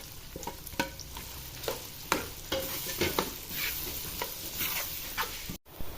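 Four medium-sized onions fry in a pan toward browning, a steady soft sizzle broken by repeated scraping stirs of a spoon against the pan, close and fairly quiet, with no voices.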